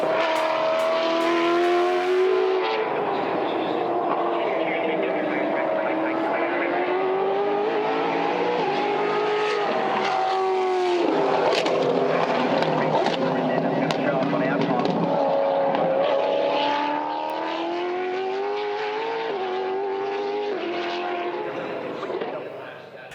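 A Brabham BT62 hypercar on track, its engine note rising and falling through corners with upshifts and downshifts, loud and close throughout, with a voice faintly underneath.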